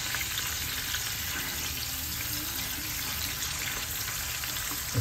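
Jumbo octopus coated in achuete oil sizzling while pan grilling, a dense, continuous hissing fry with a high whine above it, close and steady, and no talking.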